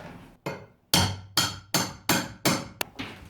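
Hammer blows on wood inside a bus under conversion, where a wet, rain-damaged wooden panel is being worked loose. About seven sharp, close strikes land at a steady rhythm, each ringing briefly, with no talking.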